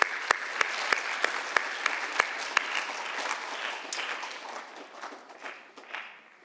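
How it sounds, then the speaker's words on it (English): An audience in a school Writers Expo room gives a student a round of applause, with crisp claps rising sharply and then fading off over several seconds. Nobody speaks. "can we just give Regan another round of applause?"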